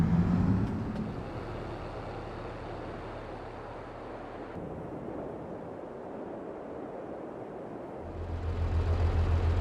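Low engine rumble of a combine harvester in Farming Simulator 22, steady and muffled, shifting in tone midway and rising louder near the end.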